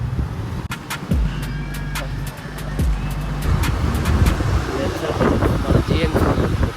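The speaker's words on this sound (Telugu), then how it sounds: "అయినా ఇది ఫుల్ ట్రాఫిక్." Road traffic on a busy narrow service road, with cars passing close and a steady rush of engines and wind noise building over several seconds, heard from a moving vehicle.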